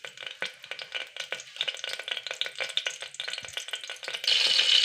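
Green chillies, fennel seeds and oil frying in a hot pan for korma curry, a busy crackling sizzle with scraping stir strokes, growing louder and more intense at the end.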